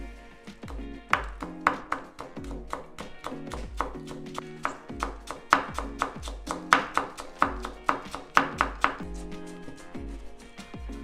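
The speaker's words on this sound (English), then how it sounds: "we can julienne them just like we've been julienning everything else" A knife julienning green mango on a chopping board makes fast, regular crisp chops, close and steady, with no talking.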